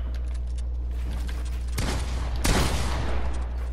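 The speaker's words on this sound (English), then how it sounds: "I can't even see you shooting me" Rapid gunfire in Fortnite, a steady crackle of shots that swells into two sharp louder bursts near the end, close and aggressive with no talking.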